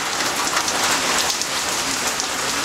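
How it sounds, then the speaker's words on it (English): Steady rain from Hurricane Gustav in 2008 patters on a tin roof in Youngsville, Louisiana, a dense, even hiss of drops close overhead with no voices. "Hear the rain on the tin roof."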